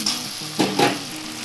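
Tomato and spice masala frying in oil for a desi mutton curry, a steady soft sizzle with two brief louder bursts of stirring near the middle, close and without talk.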